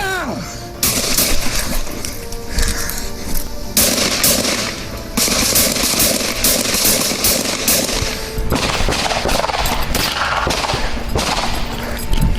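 Rapid gunfire during a police confrontation with an armed suspect, loud bursts of shots in quick succession broken by brief pauses, with shouting voices mixed in.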